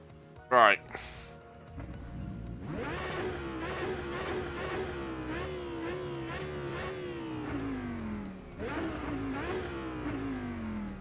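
Audi GT3 race car in rFactor 2 revving hard through repeated rising engine sweeps that climb, drop at each gear change and climb again, loud and close, after a brief sharp blip at the start.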